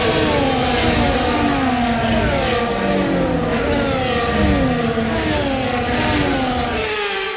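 Formula 1 race cars in F1 24 on a formation lap at Saudi Arabia, their engines revving and shifting loudly and continuously up close with rising and falling pitch, then cutting off near the end.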